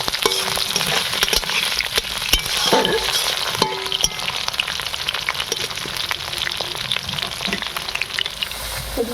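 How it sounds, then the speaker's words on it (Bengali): Potatoes frying in oil in a pan, a dense, steady sizzle close by with occasional light clinks of a spatula, no voices. "আলুটা তেলের উপরে 2 থেকে 3 মিনিট একটু ভালো করে ভেজে নেব।"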